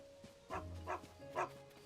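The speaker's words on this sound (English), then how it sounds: "Check out the dog." A dog in the video game Zelda: Tears of the Kingdom gives three short, separate barks at a moderate distance. A steady in-game hum runs underneath.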